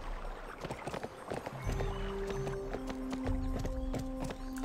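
In the Barbie Horse Adventures video game, a horse gallops with quick rhythmic clip-clop hoofbeats, loud and close, beneath tonal game music and a short whinny.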